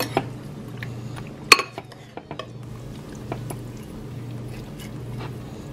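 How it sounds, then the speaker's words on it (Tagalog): Pepper-seasoned chicken being mixed in a bowl, with soft squishing and occasional sharp clinks of a utensil against the dish, fairly quiet and close, with no talking. "So, haluin lang natin."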